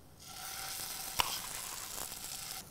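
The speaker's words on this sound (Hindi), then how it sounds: "और इसे अच्छे से भून लेंगे।" Spinach and mint paste sautéing with garlic in a pan over high heat, a steady close sizzle with a sharp single clink of a utensil partway through, no voices.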